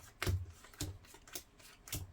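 Cards from a deck are dealt into piles for a tabletop game, giving four crisp slaps at an uneven pace, close and fairly quiet.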